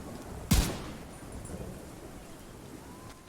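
Rain falls in the video game The Division 2: one loud, sharp crack like nearby thunder breaks out early on, then a steady, faint hiss of rainfall carries on alone.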